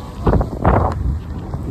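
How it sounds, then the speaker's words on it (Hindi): Cold monsoon wind in Lonavala, India, buffets the microphone in low, rumbling bursts, with a roaring texture and no clear voices. "लोनावला में बहुत ही ठंडी हवा चल रही है इसलिए आवाज़ शायद थोड़ी कम आ रही हो"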